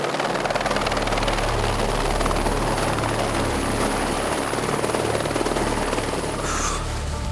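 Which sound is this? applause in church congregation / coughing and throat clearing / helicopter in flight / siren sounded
helicopter in flight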